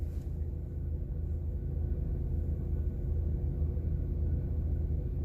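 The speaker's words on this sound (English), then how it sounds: "My car is shaking." Car rumbling and shaking in strong wind during a snowstorm drive, a deep continuous buffeting roar heard from inside the cabin, steady and fairly loud with no talking.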